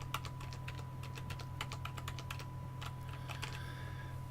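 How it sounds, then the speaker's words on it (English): Keys pressed on a computer keyboard while working in GameMaker: a quiet series of crisp, separate clicks in an uneven rhythm, close to the microphone, over a steady electrical hum, with no talking. "if I press the 1, 2 and 3 keys"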